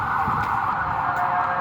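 A steady, loud siren wail holds continuously at close range, mounted on the side of a Toyota FJ60 Land Cruiser.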